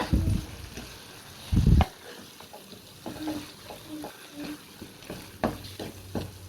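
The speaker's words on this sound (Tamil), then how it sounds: "இப்போ நம்ம உருளைக்கிழங்கோட மசாலா எழுத்து சேர்த்து நல்லா வந்து மிக்ஸ் பண்ணி எடுத்துப்போம்" A potato masala mixture is stirred in a pan over a low flame, giving soft scraping and faint sizzling with a few louder knocks near the start and brief quiet talk.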